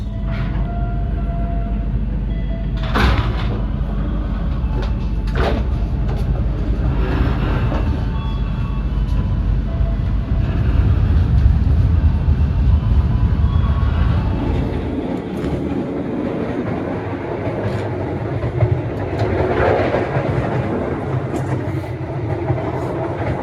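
KA Singasari New Gen passenger train from Jakarta to Blitar rolling on rails, a loud continuous rumble with rhythmic clattering and occasional sharper rail clicks, heard from inside the carriage with no talking.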